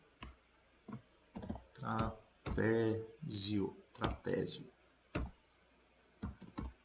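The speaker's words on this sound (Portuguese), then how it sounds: "Estão ouvindo a batida do meu teclado" Computer keyboard keys tapped in quick, sharp clicks, scattered in short bursts across the clip, heard close and clear beneath a person speaking.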